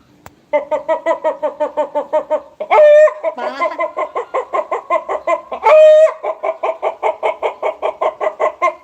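Khaen mouth organ imitating a clucking hen, loud rapid reedy pulses in a steady clucking rhythm, broken twice by longer squawking cackle-like blasts, close and alone.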